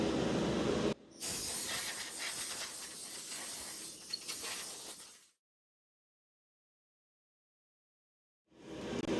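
Spray can paint hisses onto a lowrider model car in a loud, close, continuous burst lasting several seconds, then cuts to silence before a fresh spray starts at the end.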